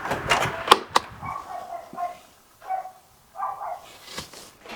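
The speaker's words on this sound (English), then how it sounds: "there's a little dog outside" A small dog barks outside in a few sharp yaps at the start, followed by softer intermittent sounds and a person speaking at moderate distance.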